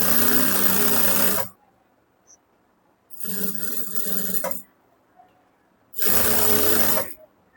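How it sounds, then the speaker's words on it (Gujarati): A sewing machine stitches a seam on a plain blouse in three short loud bursts, each a dense steady whir lasting about a second, separated by quiet pauses. "હવે અહીંયાથી આપણે આખામાં બીજી સિલાઈ લગાડી દેવાની"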